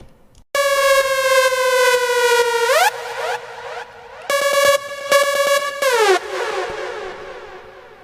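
A foghorn-like synthesizer tone for electro house production blares in two long bright held notes, each sliding down in pitch near its end, with short stabs between and a fading tail.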